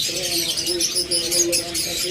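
Pet lovebirds, sold alongside cockatiels, budgerigars and finches, chirp in a steady run of bright, close tweets and calls, with a faint tonal hum beneath.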